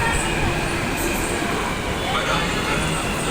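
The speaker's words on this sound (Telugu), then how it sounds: "ఇక మేము ఎక్కాల్సిన మెట్రో అయితే వచ్చేసింది చూడండి." A metro train pulling into the third platform at MGBS station, a loud continuous rumble and rush of the carriages filling the whole moment, close by with station ambience.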